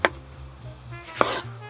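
A kitchen knife chops vegetables for tempura at a snowy solo campsite: two crisp, sharp strikes on a cutting board about a second apart, close and distinct over a low background hum, with no voices.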